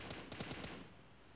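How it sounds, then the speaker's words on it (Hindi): A short, rapid burst of rifle fire from an M4 in the mobile shooter BGMI, several quick cracks in a row that then drop away to quiet background. "और लेवल मिलाने के लिए दो गोलियां भी चलाता हूँ।"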